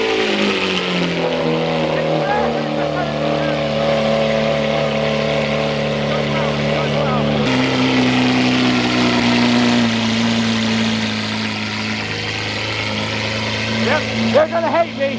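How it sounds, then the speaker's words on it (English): A Lamborghini Aventador LP700-4 with an aftermarket Fi exhaust idles while warming up, a deep, steady rumble, loud and close, holding a constant drone with a slight shift in pitch partway through. "We're just letting the Aventador warm up right now"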